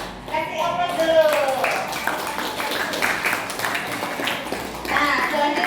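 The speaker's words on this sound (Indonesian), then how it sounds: "Kasih aplaus dulu" Group clapping in a classroom learning session, a burst of applause mixed with children's voices chattering over it, close and fairly loud for several seconds.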